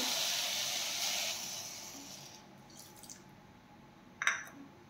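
Half a cup of water is poured onto sugar in a pan with a soft splashing hiss that fades after a second or so, followed by quiet stillness and a single drip.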